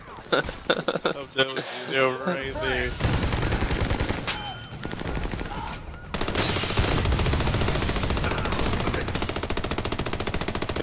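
Automatic gunfire from the video game Army of Two: The Devil's Cartel, sustained rattling bursts that start abruptly around the middle and carry loud and dense to the end, after a stretch of speech at the start.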